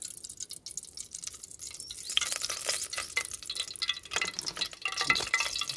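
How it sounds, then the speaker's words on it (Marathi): Oil heating in a hot pot over an outdoor village fire for chicken curry, a soft crackling sizzle that builds after a couple of seconds with faint stirring and dripping sounds, close and fairly quiet. "आता त्यामध्ये तेल टाकूया"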